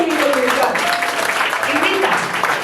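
A church congregation applauds over a steady wash of clapping, with voices cheering and calling out loudly on top for most of the clip.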